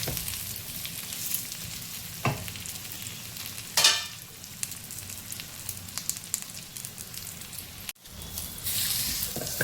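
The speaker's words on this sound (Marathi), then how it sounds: "खजूर आपल्याला छान प्रकारे मॅश करून घ्यायचे आहे" Dates being mashed in a pan for protein laddoos give a steady, wet stirring and squishing noise with a few sharp knocks of the utensil, close and continuous, with no talk.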